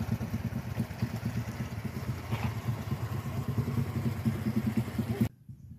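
A motorcycle rides along a steep, extreme mountain village road, its engine thrumming steadily and fairly close for about five seconds with a small clatter midway, then cutting off abruptly into near silence.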